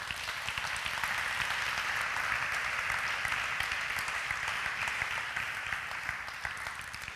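A church congregation claps steadily in a dense, continuous wash of applause lasting several seconds, moderately loud and roomy.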